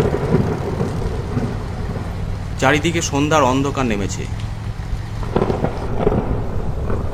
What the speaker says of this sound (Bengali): বজ্র বিদ্যুৎ সহ তুমুল ঝড় বৃষ্টি শুরু হলো।